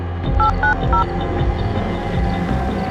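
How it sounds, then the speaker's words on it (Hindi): A telephone number is dialed on a keypad: three short dual-tone beeps in quick succession, close and clear, followed by a steady low hum with no talking. "ऐसा कर बब्बी को फोन लगा, उससे पूछ क्या चल रहा है।"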